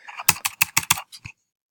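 Fingers type on a computer keyboard in about eight quick, crisp clicks, close and distinct, then it falls silent.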